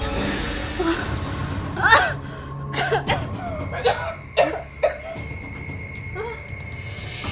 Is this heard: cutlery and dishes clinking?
no